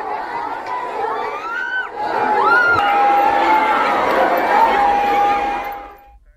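A thronging crowd of devotees fills the air with dense, loud chatter and shouts, shrill whistle-like tones cutting through, fading out at the end.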